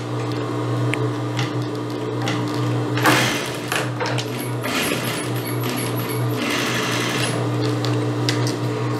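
Sewing machine stitching the waistband of a midi circle skirt with a steady mechanical whir, close and fairly loud, with brief clicks and handling sounds between runs.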